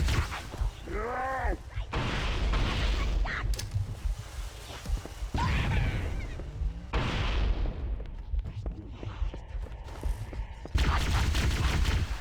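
Grenade blasts and gunfire in the video game Halo: Combat Evolved Anniversary, a run of heavy booming bursts spread across the scene with a loud, dense battle wash between them and brief voices.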